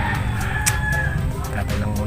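Chickens on a backyard farm clucking and crowing amid a noisy outdoor setting, with a sustained rooster-like call and scattered clucks over steady low background rumble.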